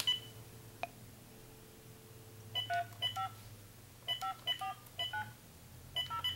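A telephone being dialed during repair of an operator's transmitter horn and receiver headset: short touch-tone beeps in several quick clusters with brief gaps, over a steady low hum of line tone, close and clear.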